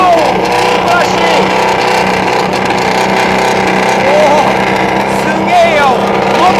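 A loud modified JDM car's engine and exhaust rumble and rev up close at the Osaka Auto Messe show during move-out, with excited talk over the roar.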